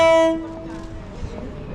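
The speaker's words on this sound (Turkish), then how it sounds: "Ve tren geliyor." A loud train horn blares briefly at the start, then fades into a low rumble of a train passing through a market on the tracks amid busy background noise, at a railway market in Thailand.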